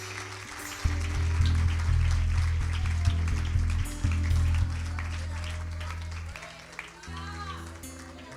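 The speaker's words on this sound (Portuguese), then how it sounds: "Você pode aplaudir ao Senhor?" A church congregation claps together during a worship service, the applause steady and mixed with music and voices.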